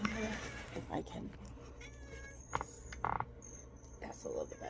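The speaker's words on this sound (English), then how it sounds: "there's a kitty here for confirmation saying yes, you can receive it" A cat meows several times, with short, clear calls standing out over a low steady background hum and some quiet movement; there is no talking.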